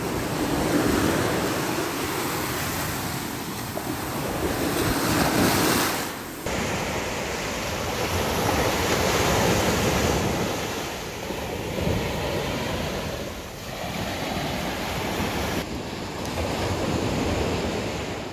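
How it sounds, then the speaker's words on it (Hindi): Ocean waves roll in on Kund Malir beach on the Pakistani coast, a loud rushing surf that swells and recedes in repeated surges with wind buffeting the microphone, no voices over it. "ये जो आप देख रहे हैं लहरें आ रही हैं"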